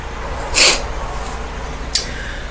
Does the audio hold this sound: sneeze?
yes